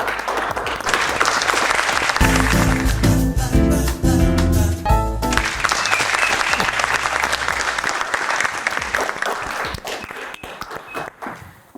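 A studio audience at an Amharic couples' game show claps, the loud dense applause swelling in, holding for several seconds, then thinning out near the end.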